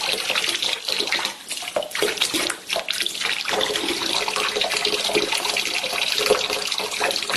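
Water pours steadily from a machine into a container, a continuous loud hiss and splash that barely varies in level, close by and with no voices.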